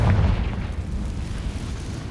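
A Confringo fire spell explodes in Hogwarts Legacy as a single deep boom. The low blast hits hard at the start, then fades into a rumbling decay with no voices over it.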